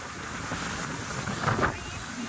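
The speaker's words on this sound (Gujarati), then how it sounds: "જો અહીં કેટલા મસ્ત મોજા આવે" Sea waves wash against a rocky, uneven shore at Diu in a steady broadband roar, with wind buffeting the microphone and a slight swell in loudness as a wave breaks.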